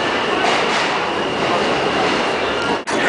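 Subway train ride heard from inside the car, a steady loud rumble of wheels on rail with faint clickety-clack, continuous across the whole stretch with a brief dip near the end and no talk.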